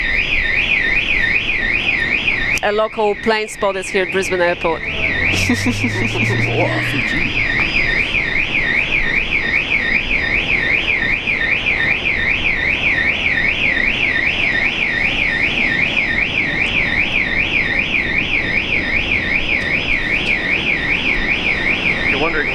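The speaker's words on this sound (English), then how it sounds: "The alarm's gone off." Loud warbling electronic alarm sounding continuously from a parked Fokker aircraft at Brisbane Airport, a steady rising-falling siren with someone talking briefly near the start.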